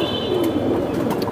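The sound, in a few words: pigeon cooing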